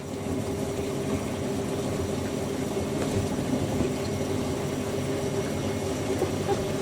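A washer dryer, a Fisher & Paykel WM1490F1 or Hoover A8582 Ecologic 1300, spins its drum on distribution with a steady droning rumble and hum, continuous and fairly faint.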